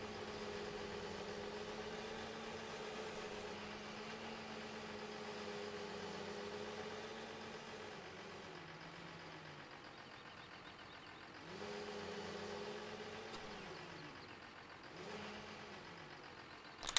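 A tractor engine idles in the Farming Simulator 15 video game, a quiet, even mid-pitched hum that fades briefly and returns, with no talking.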